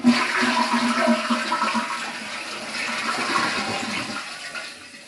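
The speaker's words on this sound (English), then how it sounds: "Alright, so let's flush it, see what happened." A toilet with a leaky tank is flushed, giving a loud rushing, gurgling swirl of water that runs steadily for several seconds and slowly eases off, with no voices.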